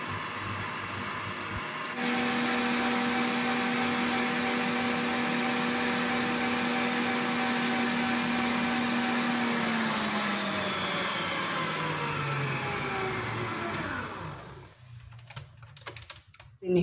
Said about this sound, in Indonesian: kita akan mixer telur dan gula juga vanili. Ini dengan speed yang tinggi ya.